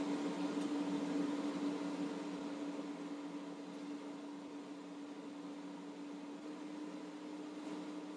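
A Ninja Foodi 2-basket air fryer runs while cooking fries, giving a steady fan whir with a constant low hum, evenly sustained and fairly quiet.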